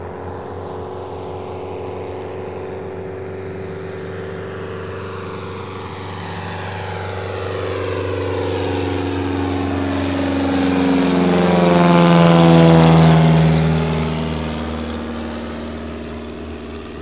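A propeller floatplane drones as it approaches, swells to a loud, close pass around twelve seconds with a falling engine pitch, then recedes with a fading hum over a low steady background rumble.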